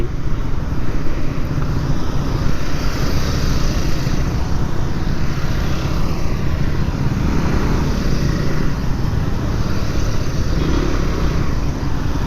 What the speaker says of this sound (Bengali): পিছনে অনেকগুলো বাইক আছে কয়টার মতো বাইক হবে